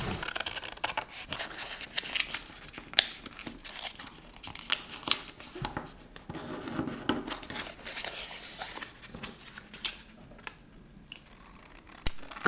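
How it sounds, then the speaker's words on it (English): Scissors snipping through paper pieces to cut them in half at a bookbinding workshop, a steady run of close crisp cuts mixed with soft paper rustling and crinkling, no voices. "I'm cutting them in half so that there are 4 pieces, 1 for each corner."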